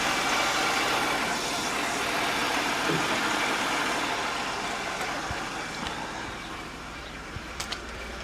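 A vehicle engine idles quietly and steadily with a low, even hum, and a few faint chirps and ticks come through near the end.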